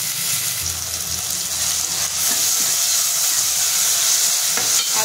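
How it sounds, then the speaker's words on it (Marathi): Chopped tomato and onion frying in a pan for a crab curry, a loud, close, steady sizzle running throughout with faint stirring scrapes. "एक मोठा टोमॅटो कट करून घेतलेला आहे, ते पण आपल्याला छान परतून घ्यायचे।"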